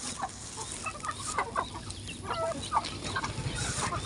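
Chickens feeding outdoors cluck and chatter in a close, busy flock, with soft overlapping calls and rustling that continue for the whole stretch.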